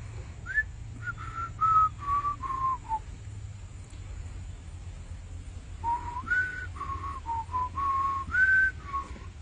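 A person whistles two short tuneful phrases of rising and falling notes, separated by a few seconds of quiet, close and fairly clear over a low background hum.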